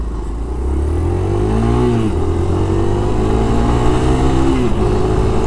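A diesel truck accelerating on the road beside a 2018 Suzuki Van Van 200 motorcycle, a loud steady engine drone with rising revs and a gear change, heard up close from the moving bike.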